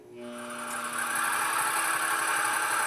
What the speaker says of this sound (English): So we start our pump up